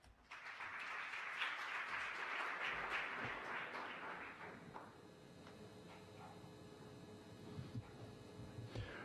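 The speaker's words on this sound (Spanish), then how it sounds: "Un aplauso para él." An audience at a law and business conference session in Santo Domingo applauds a speaker, a dense wash of many hands clapping that builds quickly, holds for about four seconds, then thins to scattered claps and room murmur.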